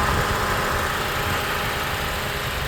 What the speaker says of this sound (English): Compressor on